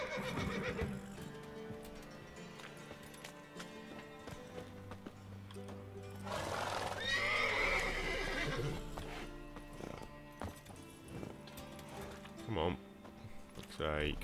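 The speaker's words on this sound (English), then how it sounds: "Can these horses please move out the fucking way?" Horses in The Witcher video game whinny loudly and clop their hooves nearby, several calls rising over a busy game soundtrack of music and ambience while a player talks over it.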